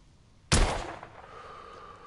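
A single sharp gunshot cracks in the Victorian-era shooter game The Order: 1886, a sudden loud blast that rings and decays over about a second against quiet background.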